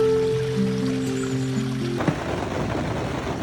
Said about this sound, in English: It's another rainy night.